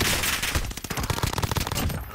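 Rapid bursts of automatic gunfire from Warzone Resurgence, loud and close, running nearly continuously over a couple of seconds.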